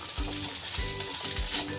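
Soybean chunks for cutlets fry and sizzle in a pan, with a steady hiss broken by rhythmic scraping stirs roughly every half second, close and clear with no talking.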